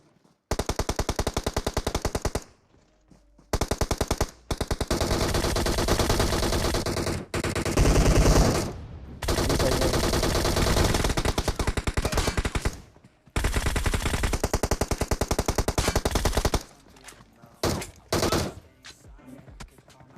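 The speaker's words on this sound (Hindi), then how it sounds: "तू एक एक गोली क्यों चला रहा है सब पे" Automatic gunfire in the battle royale game BGMI (Battlegrounds Mobile India), loud sustained bursts that fill most of the stretch with brief pauses between volleys and a quieter tail.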